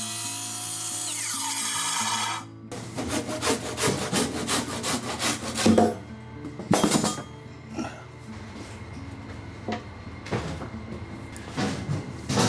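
A handsaw cuts a wooden counter board to length during a carpenter's kitchen renovation, with rhythmic back-and-forth rasping strokes, close and clear, with brief pauses between bursts.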